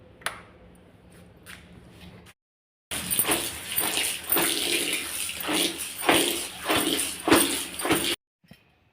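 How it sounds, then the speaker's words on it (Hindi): A mop is rinsed under running water in a bathroom, a loud, steady rush and splash that goes on for several seconds and then cuts off, with quieter handling before it. "पोछे को बाथरूम में धो लेती हूँ मैं"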